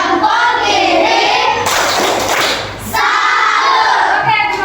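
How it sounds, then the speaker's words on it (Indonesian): A classroom group performs a rhythmic 'tepuk salut' clap together, loud dense clapping and voices mixed with shouts, a brief lull midway before the chant and claps resume. "Kasih dulu tepuk salut."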